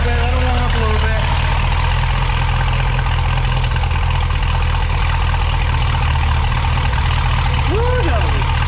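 A C7 Corvette fitted with cheap aftermarket headers idles loud and close, a steady deep rumble that holds throughout, with brief indistinct sounds over it.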